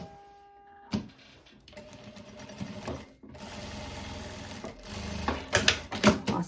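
Sewing machine stitching a tailored blazer collar, running in short bursts of rapid mechanical chatter with pauses and clicks between, close and fairly quiet.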